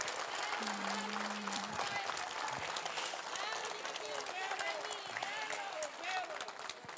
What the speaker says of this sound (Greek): Το χειροκρότημα σήμερα είναι για τον Αλκιβιάδη τον Στεφανή.